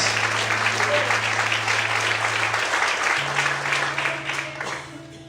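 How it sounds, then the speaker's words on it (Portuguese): Applause from a church congregation praising God fills the space, loud and continuous at first over held organ-like tones, then gradually thinning and fading toward the end. "Aplausos para o Senhor, aleluia."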